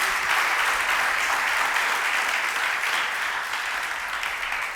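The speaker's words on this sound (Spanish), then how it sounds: "denle ese aplauso fuerte" Strong applause from a church congregation during a Spanish-English worship service, a dense steady wash of clapping filling the room at even loudness throughout.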